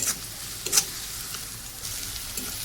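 Onions frying in a pan until they turn reddish: a soft, steady background sizzle with a couple of brief louder spits, fairly quiet and close.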